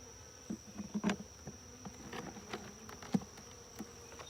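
Honey bees hum around an open hive, a faint, steady buzz with scattered brief knocks and rustles nearby.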